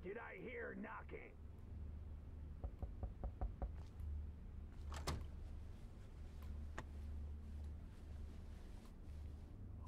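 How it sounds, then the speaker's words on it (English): A series of quick knocks on a door in the video game Road 96, about five faint raps in a short row under a low steady hum, followed by a sharper single hit. "Did I hear knocking?"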